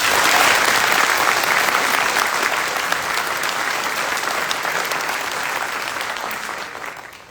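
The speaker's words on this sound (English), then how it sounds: "Please join me in a round of applause for their hard work and dedication." Sustained applause from an audience at an Army drill sergeant academy graduation ceremony, dense and even clapping that holds strong before slowly tapering off at the close.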